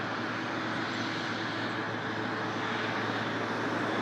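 An airliner takes off from runway 23 at Toronto Pearson Airport, its engines giving a steady, loud, broadband roar that holds constant throughout with no voices.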